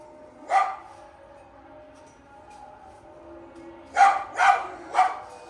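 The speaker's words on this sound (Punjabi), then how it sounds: "ਬਿਨਾ ਮਤਲਬ ਤੇ ਭੌਂਕੀ ਜਾਂਦਾ" A single dog bark, a pause, then three quick barks in a row, moderately close against a quiet background.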